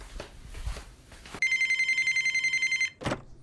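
A phone rings once with a fast trilling electronic bell, preceded and followed by brief rustling and handling noises nearby.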